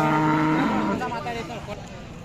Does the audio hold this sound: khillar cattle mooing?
yes